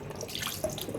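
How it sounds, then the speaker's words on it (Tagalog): A century egg rinsed under a running kitchen tap, with a steady close stream of water splashing into the sink for the whole second. "Hugasan muna natin bahagya."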